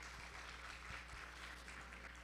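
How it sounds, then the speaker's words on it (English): A crowd at a Japanese-American community anniversary celebration applauds a dance group, a faint, even patter of clapping heard from a distance over a steady low hum. "Let's give them another round of applause."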